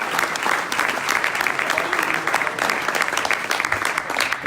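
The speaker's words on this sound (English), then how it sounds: "Big applause for them, the first speakers." An audience claps steadily for the first speakers at a Speck&Tech tech meetup, a dense, continuous patter of many hands at an even loudness throughout, with no voices rising above it.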